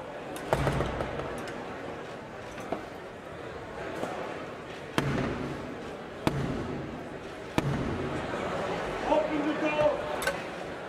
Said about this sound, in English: who has the doors of the House of Commons slammed in his face before then banging on them with his rod